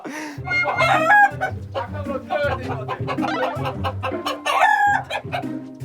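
Chickens cluck busily in a chicken coop, several birds close and loud with overlapping calls and a rooster-like crow, while people talk throughout.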